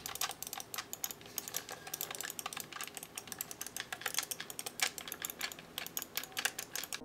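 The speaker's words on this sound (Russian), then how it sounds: "отклик кнопок очень хороший и по звуку напоминает клик от мышки" Buttons on a HORI Fighting Commander OCTA fighting gamepad for Xbox Series click rapidly and crisply, mouse-like taps in quick irregular bursts, close and fairly quiet with no voices.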